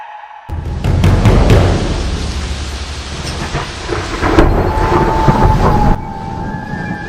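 Heavy thunderstorm with steady rain, used as a horror story sound effect: loud rolling thunder cracks and rumbles over a dense wash of downpour, continuing for several seconds before the storm noise drops away sharply near the end.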